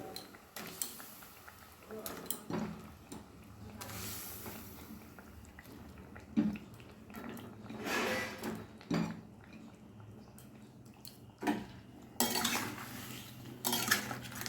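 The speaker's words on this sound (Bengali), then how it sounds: "মাছগুলো ঝোলের সঙ্গে মিশিয়ে দিলাম" A spoon scrapes and clinks against a pan as rohu fish pieces are stirred into a simmering curry gravy. The knocks and scrapes come in irregular bursts, with a voice talking in between.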